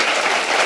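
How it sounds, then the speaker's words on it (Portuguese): A live audience applauds after a talk on freedom, with continuous dense clapping that holds steady throughout the short moment, loud and unbroken with no voices. "Por favor, com um aplauso sentido."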